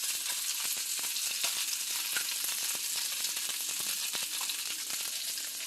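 Butter and sunflower oil sizzle in a frying pan, a dense, steady crackling hiss with frequent small pops, close and continuous without speech.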